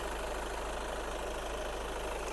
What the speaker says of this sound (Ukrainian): Двигун працює чітко, все рівно